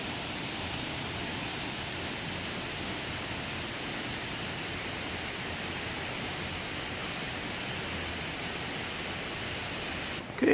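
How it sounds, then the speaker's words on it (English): Steady, even rush of a waterfall on Jeju Island, a constant broadband roar heard alone throughout; no distinct birdsong stands out. "You can only hear the water of the waterfalls and the birds chirping all around the area."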